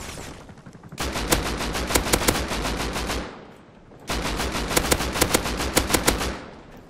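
Two long bursts of rapid automatic gunfire in the video game Rust, loud and close, each run of shots lasting a couple of seconds with a short quieter gap between them.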